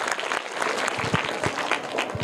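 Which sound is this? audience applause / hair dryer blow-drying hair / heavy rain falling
audience applause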